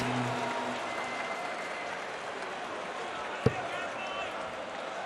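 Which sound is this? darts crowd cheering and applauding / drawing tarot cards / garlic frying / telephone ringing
darts crowd cheering and applauding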